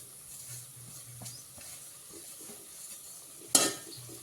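Spices and ground masala frying in a pan for a village-style mutton curry, a low steady sizzle with light stirring scrapes and one sharp clatter of utensil against the pan near the end.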